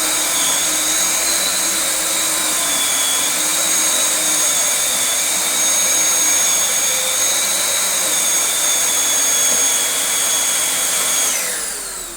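Vacuum cleaner running steadily with its brush roll switched on, a loud continuous motor whine with high-pitched tones and a slight pitch shift, winding down at the very end.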